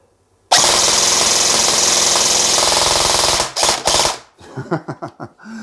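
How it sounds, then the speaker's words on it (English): A KWA Ronin TK.45 airsoft rifle fires a long, loud, rapid burst of full-auto shots for about three seconds, then several short bursts, leaving a whirring, clattering mechanical rattle close up. "let's finish this off with a barrage of ammo being shot at this target here"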